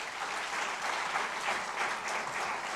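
An audience of MBA students claps steadily throughout an induction ceremony, a dense, even wash of applause from a crowded hall.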